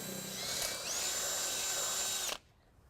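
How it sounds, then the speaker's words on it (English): A power drill bores a pilot hole through the frame of a 2013 Ford Focus while a trailer hitch goes in, its steady high whine running loud and continuous for over two seconds, dipping briefly in pitch once, then stopping abruptly. "We're going to start out by drilling our pilot hole."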